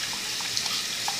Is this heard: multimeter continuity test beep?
no